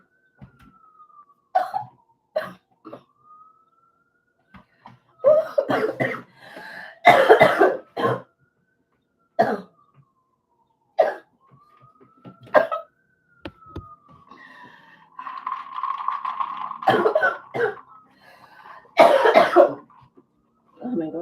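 Repeated coughing fits from one person, close and loud, coming in separate harsh bursts across the stretch with quiet gaps and a few throat-clearing sounds between.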